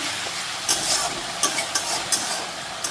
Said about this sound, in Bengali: এখানে মাছের মশলাটাকে কষিয়ে নেব